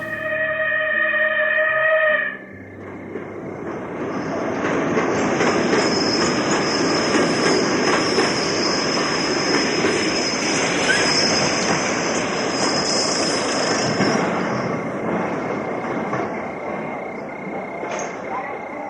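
A train pulls into a rural Bengal station at midnight, its wheels rumbling and clattering steadily with high metallic squeals over a long, close, continuous passage, preceded by a brief musical tone.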